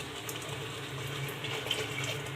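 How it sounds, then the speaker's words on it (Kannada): Water is poured into a pan of lady's finger sambar after roasting, a soft, steady trickling gush that runs continuously and fairly quietly, with no talk. "ನಿಮ್ಗೆ ಎಷ್ಟು ನೀರು ಬೇಕು ಅಷ್ಟು ನೀರು ಹಾಕ್ಕೊಳ್ಳಿ"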